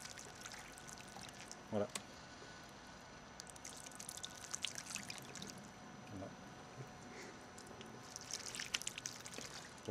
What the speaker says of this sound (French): Et je vais verser de l'eau pour constater l'effet déperlant.